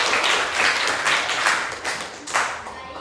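A classroom gives a round of applause for a student group, dense clapping from many hands swelling and fading in waves, fairly loud and close, lasting about three seconds.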